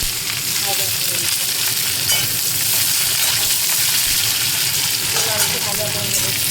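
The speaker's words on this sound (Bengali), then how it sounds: "এবারে আমি লাল করে ভাজা করে নেব" Food sizzling steadily in a hot pan as it fries until reddish, with a dense, continuous crackle and occasional stirring scrapes.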